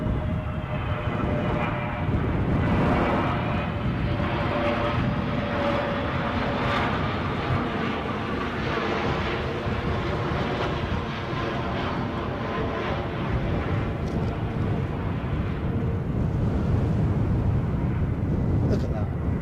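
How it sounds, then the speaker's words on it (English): An EasyJet Airbus A320neo takes off at Edinburgh, its steady broad engine roar holding throughout while a voice talks over it. "this 320 Neo in the very distinctive EasyJet colours"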